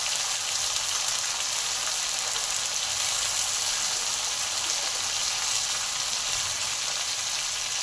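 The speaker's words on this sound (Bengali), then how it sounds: "এগুলো ভালো করে ভাজা ভাজা করে নেব" Malabar spinach stems, carrot, beans and pumpkin frying in a pan, a steady, even sizzle that holds at the same level throughout, close up with no voices.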